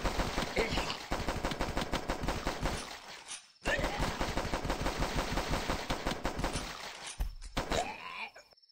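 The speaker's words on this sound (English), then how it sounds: "All you gotta do is just shoot the zombies and prevent them from reaching the barricade." Rapid gunfire from shooting zombies at a barricade in The Last Stand flash game, a dense continuous rattle of shots that briefly stops and then resumes, loud and steady throughout with no talk.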